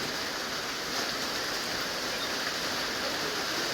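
Steady rain pours during a storm in front of a house in Laos, a dense, even hiss of falling water that holds constant throughout with no voices.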